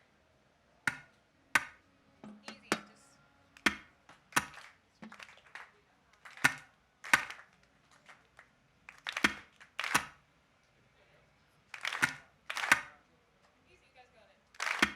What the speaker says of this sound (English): So we start with chapter number 1, which are just the claps.